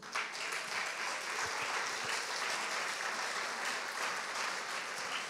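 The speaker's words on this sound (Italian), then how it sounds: "un applauso a Elisa" Audience at a church women's conference clapping for a woman called up front, sustained even applause from a large crowd at moderate level throughout.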